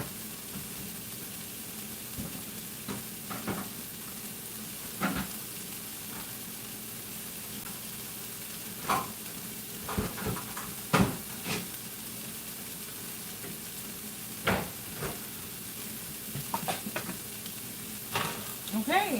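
Vegetables fry in a pan with a steady close sizzle, punctuated by irregular clacks and scrapes of stirring and utensils against the pan over nearly twenty seconds.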